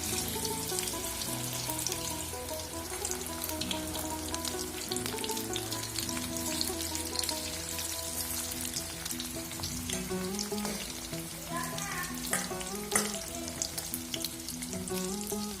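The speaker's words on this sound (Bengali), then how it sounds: "এরপর আমি একটা কড়াতে তেল গরম করতে দিয়েছি। এবার ওই গরম তেলের মধ্যে এগুলো ছেড়ে দেবো।" Soybean pakoras fry in hot oil in a wok, giving a dense, steady bubbling sizzle close by, with a few louder pops and a utensil clink near the end. No voices are heard.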